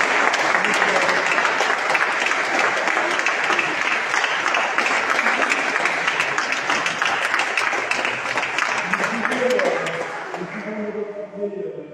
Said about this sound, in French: c'est moi qui vous applaudis